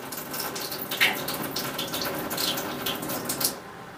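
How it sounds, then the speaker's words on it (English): Cool tap water running from a faucet into a tablespoon, a steady close splashing hiss with a few brighter spatters, continuing for several seconds before cutting off near the end. "I'm just going to get 1 tablespoon of cool water."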